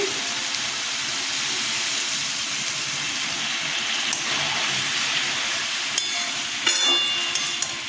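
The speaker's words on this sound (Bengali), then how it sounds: "এখন তা কষানো হয়ে গেছে জল দিয়ে দিচ্ছি" Water poured into a pan of cooking ash gourd shukto, giving a steady, close hiss and rushing splash that runs throughout with faint clinks toward the end.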